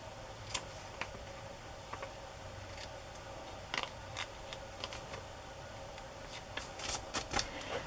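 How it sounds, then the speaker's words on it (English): Scissors snipping out a paper collage element, a series of small crisp cuts and rustles at close range, soft and intermittent over a quiet room, with no talking. "So I'm just cutting this out a little bit better."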